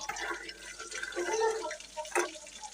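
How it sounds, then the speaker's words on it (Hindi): Half a cup of water and half a cup of sugar stirred together in a pan to make syrup, with watery swishing, trickling and a few louder splashes, close up and without speech. "तो आधा कप मैंने पानी ली है, आधा कप में चीनी लूँगी, मिक्स कर लूँगी।"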